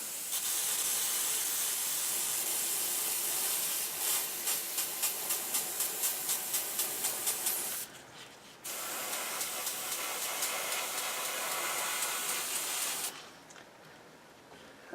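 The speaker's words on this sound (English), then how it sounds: "So this will be the last thing I do with the airbrush." An airbrush sprays Dark Earth paint thinned with airbrush thinner onto a Spitfire Mk II model in a steady close hiss. A run of rapid pulsed bursts follows, then two clear pauses in the flow.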